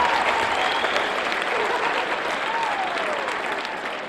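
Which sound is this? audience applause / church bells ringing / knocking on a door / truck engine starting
audience applause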